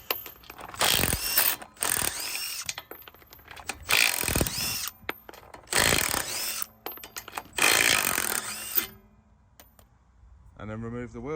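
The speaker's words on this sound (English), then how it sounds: "the bolts are loose, we can remove all the bolts" Rear wheel bolts coming off the axle of a 2020 Renault Master van, several loud bursts of a power tool spinning with ratchety whirs, separated by short pauses, ending with a brief metallic rattle.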